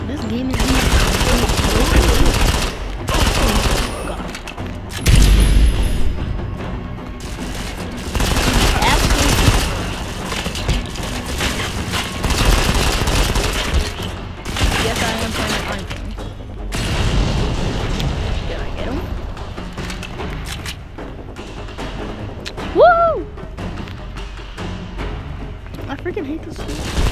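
Video game gunfire, dense bursts of shots and booms crackling across a loud continuous battle mix, with a player talking over it.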